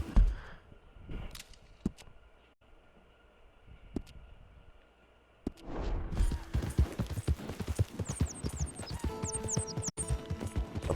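Horse hooves clip-clopping in Red Dead Redemption II, the player's newly bought permanent horse, with a quiet stretch giving way to a busier burst of steady hoofbeats mixed with game ambience.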